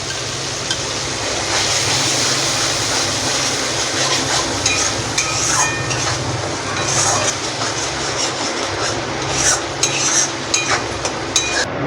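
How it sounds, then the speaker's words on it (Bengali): A spoon scrapes and stirs a paste of ground melon seeds, poppy seeds, cashews and peanuts frying with soybean curry in a pan, giving continuous close rasping and sizzling. "এবার ওটা দিয়ে আর একটু ভালো করে কষে নেব"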